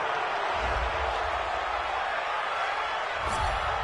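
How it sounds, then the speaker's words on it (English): A home crowd roars in a football video game after an interception, a steady broad wall of cheering that holds loud and even throughout with no break. "This home crowd, they're happy with that call."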